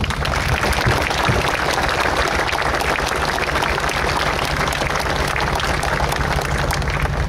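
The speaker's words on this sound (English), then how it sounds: "let's have a round of applause for the real stars of the show here, all of these great locomotives" Sustained applause from an audience at a streamliner locomotive gathering, a dense, steady wash of clapping that holds at even loudness for several seconds with no speech over it.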